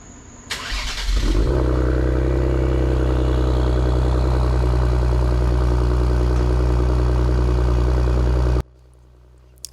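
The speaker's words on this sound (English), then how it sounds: "after you've allowed ample time to admire the sound of your new exhaust system" A 2020 Ford Explorer ST fitted with a Thermal R&D 3-inch exhaust cold-starts with a sharp crank, then settles into a loud, steady, deep idle drone held close for several seconds before cutting off abruptly.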